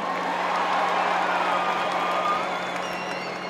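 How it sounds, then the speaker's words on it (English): Steady applause from a large crowd, a dense continuous patter of clapping that holds at an even level for a few seconds. "Give yourselves a round of applause."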